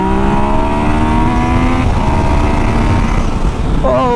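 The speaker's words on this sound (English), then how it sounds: "that's a stock exhaust, by the way. I don't know if it comes through on the GoPro, but this is loud" Yamaha MT-09 motorcycle with a stock exhaust, ridden in second gear in standard mode, revs loudly and steadily near the microphone, its engine note climbing over constant wind rush before a quick shift near the end.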